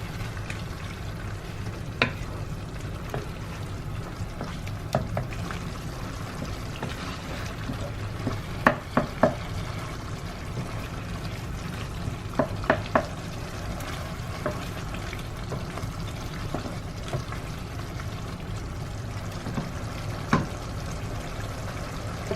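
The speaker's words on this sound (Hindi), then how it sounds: "मैं हाई फ्लेम पे ही इस टोमेटो को कुक होने दूँगी।" Tomatoes cooking over a high flame for Hyderabadi liver masala, a steady low sizzle and frying hiss broken by occasional clinks and stirs of a spoon against the pan, no talking.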